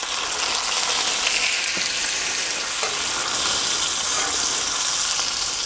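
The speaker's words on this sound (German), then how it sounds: "Und während der Speck gekocht wird," Bacon frying in butter in a pan, a steady dense sizzle and crackle running loud and unbroken throughout, with a few faint stir clicks and no voices.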